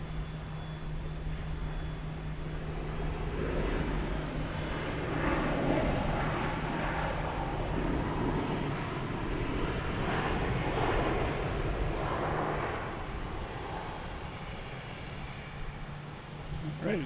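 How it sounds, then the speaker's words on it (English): A British Airways Boeing 787 arriving from London Heathrow lands at Boston Logan, a broad, steady jet roar that swells and holds at moderate distance for the full span, with light outdoor background noise. "And behind this is British Airways 787 coming in from London Heathrow."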